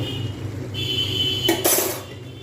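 A metal lid set down on a pan of cabbage curry cooking on the stove, a short clinking clatter over a low steady background hum.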